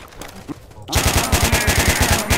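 Kalashnikov rifle fire in the video game STALKER, a loud, close, rapid automatic burst of evenly spaced shots after a short quieter lead-in.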